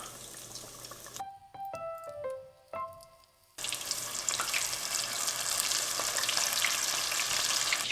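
Eggplant dusted with frying batter powder goes into hot oil after a few light metallic clinks and taps, then a close, steady crackling sizzle fills the rest.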